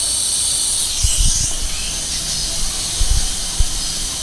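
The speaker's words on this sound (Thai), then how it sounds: "ตอนนี้ผมเปิดตัวปั๊มไว้อยู่นะครับ" A pneumatic brake bleeder and fluid extractor pump runs with a steady, loud high hiss of escaping air, broken by a few soft low thumps.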